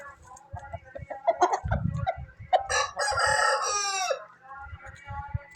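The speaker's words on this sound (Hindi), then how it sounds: "ये माशाल्लाह मुर्गी और मुर्गा" A rooster and hen at a poultry farm, the rooster giving a loud, close crow in the middle while clucks and short calls sound before and after it.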